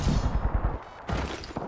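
Gunfire in the video game Apex Legends, a rapid burst of close, loud shots followed by a brief lull and another burst.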